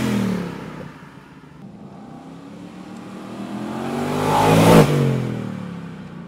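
A 2022 Ford Mustang Mach 1 revs from outside the car, its engine note climbing and swelling to a loud, close peak near the end before easing off slightly.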